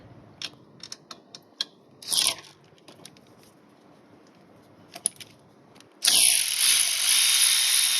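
A hand ratchet clicks in quick, spaced bursts while 10 mm bolts and a main battery lead come off a vehicle. Two longer whirring runs follow, the last a loud continuous spin to the end.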